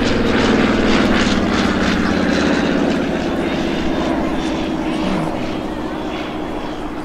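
A P-47 Thunderbolt warplane at an airshow, its 2,000-horsepower engine giving a loud, deep propeller drone that passes close, then gradually recedes.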